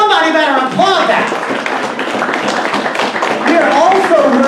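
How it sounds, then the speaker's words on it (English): Applause and scattered clapping from a conference audience, loud and steady for several seconds, with a voice rising over it at the start and again near the end. "Somebody better applaud that."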